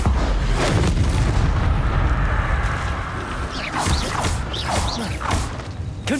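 Confringo and Bombarda spells cast in Hogwarts Legacy: a loud rumbling wash of thumping blasts and magical whooshes, with sharp bright spell bursts flaring repeatedly in the later half.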